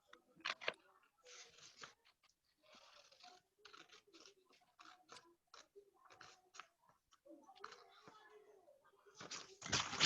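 Small scissors cutting out a paper puppet body, giving a sparse series of quiet, close snips and crisp paper rustles with pauses between cuts and a louder crinkle at the end.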